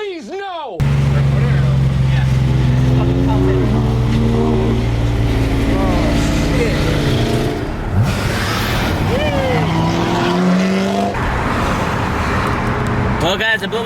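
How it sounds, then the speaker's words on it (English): A nitrous-fed Z car engine roars and strains loudly before blowing up, its pitch wavering and breaking up amid loud, excited voices. "I blew my motor. The great white finally blew!"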